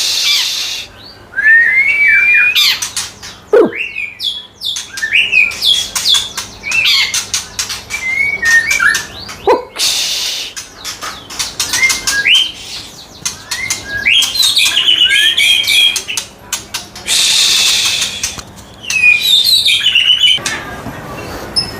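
Forest songbirds at a bird kiosk selling wild murai call repeatedly in loud, close whistling phrases and chirps, with bursts of wing flapping and faint background noise throughout.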